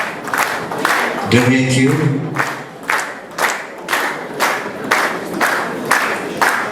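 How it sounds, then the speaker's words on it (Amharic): An audience applauds at a public gathering, the clapping rising in bursts under a man addressing the crowd over a loudspeaker. "እናንተ አጨብጭቡላቸው።"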